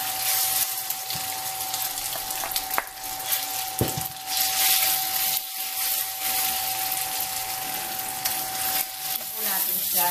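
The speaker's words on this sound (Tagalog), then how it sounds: "ipiprito po natin muna ang mga sangkap niya. Unahin po natin ang chicken." Chicken pieces fry in a pan for a crispy noodle dish, giving a steady broadband sizzle with a constant tonal hum and a couple of brief clinks.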